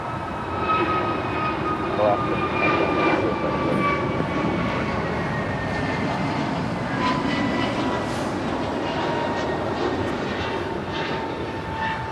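Embraer E175 jet departing Los Angeles International Airport for San Diego, a continuous distant engine roar with faint whining tones, steady throughout with voices talking over it.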